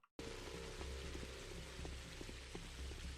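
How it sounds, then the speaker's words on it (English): Steady rain falling in the video game Pathologic, a dense even patter of drops that starts abruptly and continues without pause, with faint low tones beneath. "rain."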